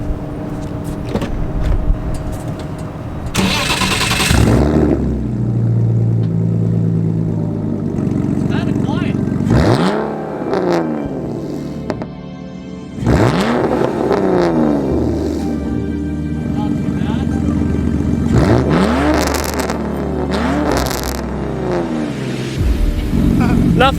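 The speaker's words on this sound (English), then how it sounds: "A little typical straight pipe." A straight-piped BMW Z3 drift car revving hard in several loud bursts, each climbing sharply then dropping back to a rough, burbling idle, close to the microphone.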